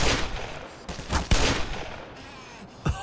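Gunshots in the video game Black Mesa Source ring out as loud, close bursts and single cracks within a short, busy stretch of combat noise.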